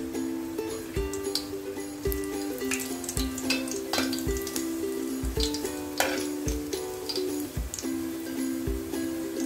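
Three or four curry leaves go into hot oil for a king fish curry and set off a busy, crackling sizzle with sharp pops, under a faint background tone.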